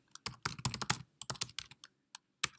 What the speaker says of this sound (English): typing in a reason